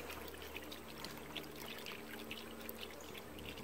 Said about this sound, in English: That's all you gotta do is just pour it in.